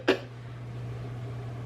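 One short, sharp cough bursts out near the start, then a low steady hum continues with no further voice.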